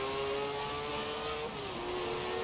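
A car engine revs hard in Forza Horizon during a race overtake past an RX-7, a loud, sustained high-pitched drone with a slight dip in pitch partway through.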